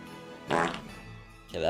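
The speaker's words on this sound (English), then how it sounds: "that was just two different farts." Two separate fart sound effects play, each a short, buzzy, low-quality blast with a pause between them, loud and close.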